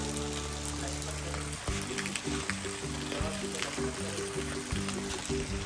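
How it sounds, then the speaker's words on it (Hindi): Heavy monsoon rain pouring outdoors at a farm, a dense hiss of drops and runoff with a low tonal hum underneath, close and continuous. "ये जम के बारिश"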